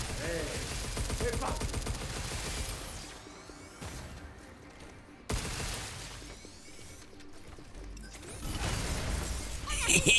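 Weapon fire in the video game Pragmata, with more ammunition loaded, comes in loud dense bursts near the start and again near the end, with a quieter stretch between.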